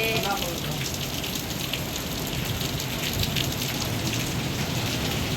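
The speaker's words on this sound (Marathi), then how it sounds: "भयानक पाऊस चालू आहे" Heavy monsoon rain pours down steadily in a dense, continuous hiss at Ganpatipule on the Konkan coast, with no other sound standing out.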